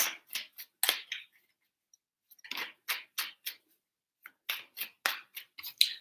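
Crisp, papery riffling bursts in quick clusters, separated by a brief quiet pause, close up and fairly soft, as a deck of tarot cards is shuffled by hand.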